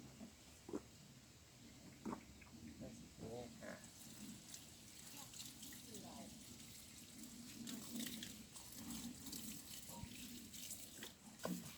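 Water runs and splashes softly while vegetables are watered in the evening, a faint continuous trickle with scattered drips heard beneath a person talking.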